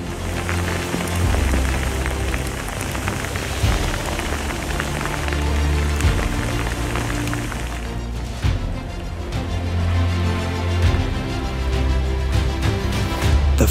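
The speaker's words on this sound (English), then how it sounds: "it is raining and sleeting and snowing, and it's been miserable all day" Rain and sleet falling outdoors on a miserable day during a whitetail rut hunt in Alberta, a loud, dense, continuous patter on surfaces with a low rumble underneath, no talk.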